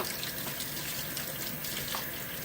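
Tap water runs steadily into a sink during washing, a continuous close hiss and splash with no speech over it.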